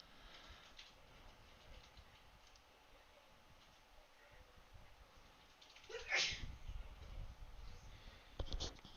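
A single sharp sneeze midway through, fairly close and louder than the steady low background noise around it.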